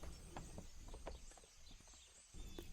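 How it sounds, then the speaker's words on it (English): Horse hooves clip-clop along a byway or bridle path as an audiobook sound effect, a steady walking rhythm of hoof knocks over a constant background hiss. "steering his horse along byways and bridle paths"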